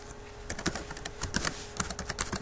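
A computer keyboard close by as a URL is typed into a browser, with quick, uneven bursts of key clicks and no talking.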